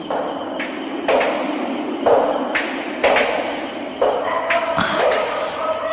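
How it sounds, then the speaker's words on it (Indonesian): Footsteps inside a house in a radio drama, a series of sharp, distinct steps about once per second, close and clear over a quiet background. "Langkah kaki."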